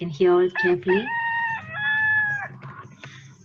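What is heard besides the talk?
rooster crowing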